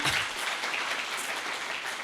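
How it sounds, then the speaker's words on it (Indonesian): A brief burst of applause from a seminar audience for Pak Musa and Pak Pangardiatono, dense and steady throughout. "Tepuk tangannya sangat meriah kepada Pak Musa dan Pak Pangardiatono."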